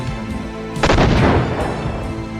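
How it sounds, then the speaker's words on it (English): A loud, booming video game explosion in a top-down space shooter bursts out and rumbles away, with a steady electronic hum underneath. "There are disappearing explosions and everything."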